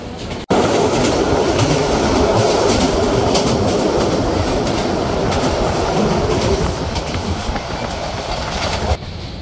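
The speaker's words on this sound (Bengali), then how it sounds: "আন্তনগর পর্যটক এক্সপ্রেস প্রবেশ করল ঢাকা বিমানবন্দর রেলওয়ে স্টেশনে" An intercity express train rumbles into Dhaka Airport railway station loudly and close, a continuous roar of wheels and carriages with rhythmic clatter throughout.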